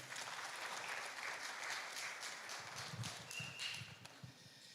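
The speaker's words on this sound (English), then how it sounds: "Another round of applause for her, please." Crowd applause at a youth forum with the president, sustained brisk clapping from a large audience, fairly faint and distant, running steadily throughout with a few heavier patches.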